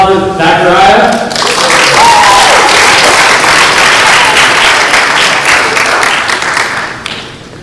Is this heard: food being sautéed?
no